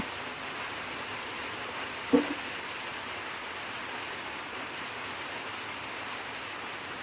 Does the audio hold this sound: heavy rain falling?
yes